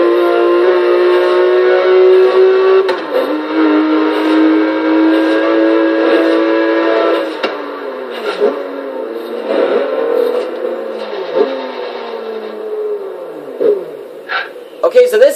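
A 2004 Porsche 911 GT3 in Forza Horizon 3 holds a loud, steady high-revving engine note, then climbs and drops through repeated gear changes, with the pitch rising and falling.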